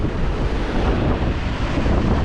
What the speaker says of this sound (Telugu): మొత్తం గేట్లు ఎత్తేసారండి వచ్చిన వాటర్ వచ్చినట్టు వచ్చేస్తుంది